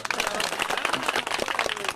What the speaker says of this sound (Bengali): এবার হাততালি হবে জোরে